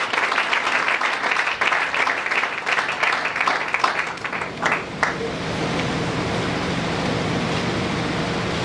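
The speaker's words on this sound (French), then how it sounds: "Acclamons très fort pour le Seigneur." A church congregation claps loudly together for about five seconds, the dense applause then giving way to a steady wash of room noise.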